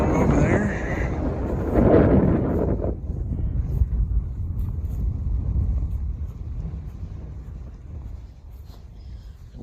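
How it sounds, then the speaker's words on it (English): Strong wind on a hiking trail gusting and buffeting the microphone with a loud low roar throughout, easing slightly toward the end. "The wind is whipping."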